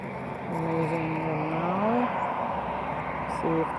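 A plane takes off at Lisbon Airport with a steady broad engine roar, while a voice talks over it and a sustained gliding tone rises and falls.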